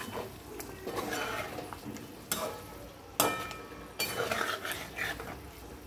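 A spoon stirs yogurt through egg biryani in a metal pot, with repeated scraping and clinking against the pan, several sharper knocks, and a faint sizzle underneath, close up with no talking.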